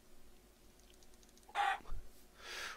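A chicken in the video game Minecraft gives two short, close clucks in quick succession against a faint, quiet background, with no talk.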